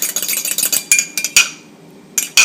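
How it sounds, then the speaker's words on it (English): A fork clinks and scrapes rapidly against a metal pot as beaten egg is stirred into Czech mushroom soup, close up, in quick bursts of clatter with short pauses. "you just go with the fork, spin it around"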